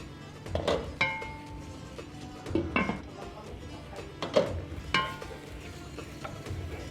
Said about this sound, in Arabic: تشوح شويه البصله المفرومه تصفر كده وتبقى لونها حلو